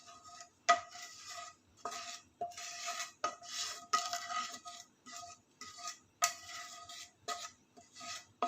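A spoon repeatedly scraping and clinking against a metal vessel while mango pickle is mixed with mustard and fenugreek powder, in irregular rhythmic strokes with brief pauses between them, close and moderately loud, no speech.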